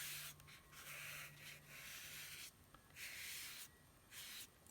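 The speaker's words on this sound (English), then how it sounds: "I'm going to get the paper wet" Soft, steady brushing strokes sweep water back and forth across watercolor paper in repeated passes, with short pauses between, close and quiet.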